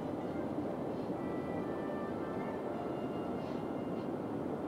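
Steady low rumble of freight trains rolling along in the video game Cities: Skylines, a continuous mechanical drone with faint squealing tones above, no voices.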